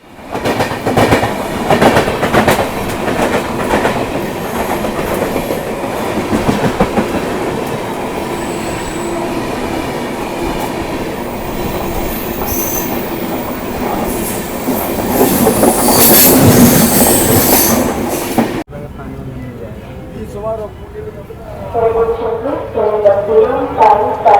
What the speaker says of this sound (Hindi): इधर से स्किप कर रही है ट्रेन नंबर 22306, यानी कि जसीडी को SMVT बेंगलोर से कनेक्ट करने वाली साप्ताहिक सुपरफास्ट एक्सप्रेस